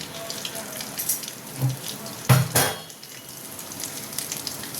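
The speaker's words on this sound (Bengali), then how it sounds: "তেলটা গরম হয়ে গেছে এবার আমি এতে দিয়ে দেবো অল্প একটু গোটা জিরে" Whole cumin seeds hit hot oil in a pan with a brief, crackling sizzle, including a couple of sharp bursts midway, over a quiet kitchen background.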